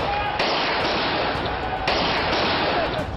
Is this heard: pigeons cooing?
no